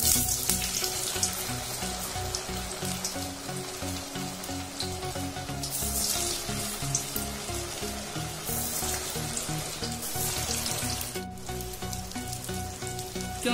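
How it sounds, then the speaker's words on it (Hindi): Bread snacks deep-frying in very hot oil in a kadai, giving a loud, dense, continuous bubbling sizzle with gentle surges and no talking. "अब हम इसमें ब्रेड स्नैक्स को तलेंगे"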